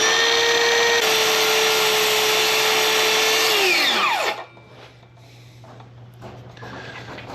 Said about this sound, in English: I just like to use my circular saw here. It gives a nice straight cut.